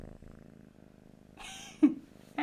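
A cat purrs softly and continuously up close, a low steady rumble, followed by a couple of brief louder sounds near the end.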